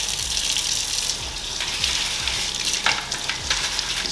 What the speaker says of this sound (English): Rinse out your drip tray.